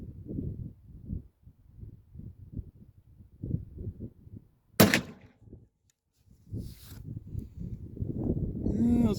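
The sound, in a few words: gunshot from Traditions Buckstalker XT muzzleloader rifle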